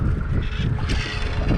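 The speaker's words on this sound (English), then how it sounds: "Wind." Wind roars over the microphone aboard a fishing boat offshore in Southern California, a loud, continuous low rumble with rushing gusts through the whole short moment.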